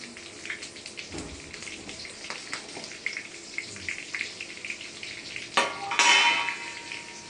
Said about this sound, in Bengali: আমি দিয়ে দিচ্ছি কালো জিরা ফোড়ন সঙ্গে দেবো কাঁচা কাঁচা লঙ্কা